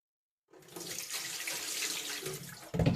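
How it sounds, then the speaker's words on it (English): Tap water pours into a pot of perpetual stew, starting abruptly as a steady broad rush of running water that holds for a couple of seconds, then turns heavier and splashier near the end, with no voices. "Let me add water."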